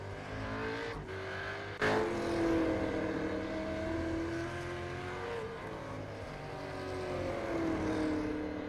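Supercars Championship race car in iRacing at Oran Park Raceway GP, its engine droning steadily near and loud with pitch rising and falling through gear changes, no talk over it.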